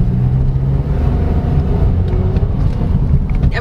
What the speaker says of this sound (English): finally happy that I got to drive this Mitsubishi Mirage